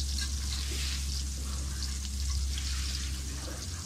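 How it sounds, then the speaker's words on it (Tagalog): Garlic sautés in hot oil for pancit bihon, giving a steady, close, continuous sizzle with a low background hum and no distinct stirring strokes. "Umpisa na natin, mag-isa po tayo ng bawang."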